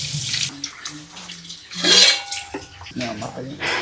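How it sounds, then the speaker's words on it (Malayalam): Hot water is poured out at a home meal, a splashing gush that swells in the middle of the clip between stretches of people chatting nearby. "ആ വെള്ളം എടു നല്ല ചൂടുവെള്ളം"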